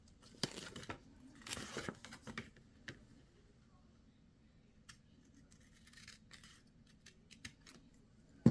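Scissors snip away excess paper while making a small handmade gift bag, giving a few short crisp cuts in a quiet room, close and fairly soft, with brief pauses and light handling rustles between them.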